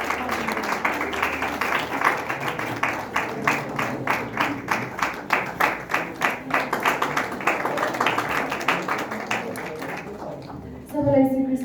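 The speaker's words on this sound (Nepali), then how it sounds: "हाम्रो पायल मोक्तानज्यूलाई हामी ताली बजाएर अगाडि स्वागत गर्नेछौँ।" A crowd at a Christmas song launch event claps steadily for about ten seconds to welcome a speaker, a dense, even patter of many hands that fades out before a voice begins speaking.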